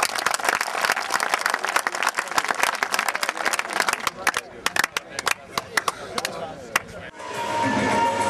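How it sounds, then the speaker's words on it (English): An audience at a kabaddi event gives a dense round of applause, many hands clapping loudly and rapidly together for several seconds before thinning into scattered claps, with a voice speaking briefly near the end. "can everyone just give a please big round of applause for Ashok, who's come down from Birmingham."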